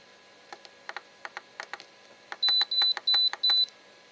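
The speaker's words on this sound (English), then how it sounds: "Set the timer for 15 minutes." A pressure cooker's timer chirps with a run of short button-press beeps, then a few longer, louder tones as it is set, all clear and close in a quiet kitchen.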